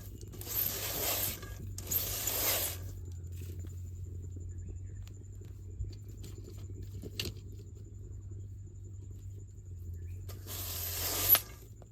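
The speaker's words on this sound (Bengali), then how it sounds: "মাকইটা এখন বালির মধ্যে দিয়ে দিব" Corn kernels roast in hot sand with a soft, steady low rumble, broken by a few bursts of bright hissing and scraping as the sand is stirred, with occasional small ticks in between.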